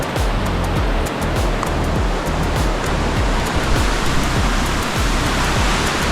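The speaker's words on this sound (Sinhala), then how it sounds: "ඕක ඉතින් තරුවට ඇදලා යන වතුර පාර." A strong stream of water rushing powerfully downhill after heavy rain, a loud continuous roar of churning flow close by.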